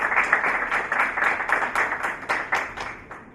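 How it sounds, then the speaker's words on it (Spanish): Audience applause at a seminar on electoral conflicts and political violence: a dense, steady patter of many hands clapping that holds for a few seconds and then thins and fades out. "brindarles un fuerte y cálido aplauso."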